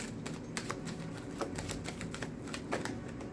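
Tarot cards are shuffled close by, with quick irregular flicking and snapping taps of cards riffling against each other, fairly quiet and with no voices.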